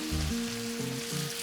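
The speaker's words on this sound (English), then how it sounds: "This sausage fixing to start frying up in this skillet over here." Bacon and sausage sizzle steadily on a Blackstone griddle and in a skillet, a broad even hiss, with a low humming tone underneath and no talk.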